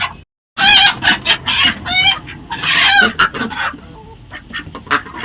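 Vanaraja chickens on an integrated farm in Odisha cluck and crow loudly and close by, with overlapping squawks and calls from several birds after a brief silence.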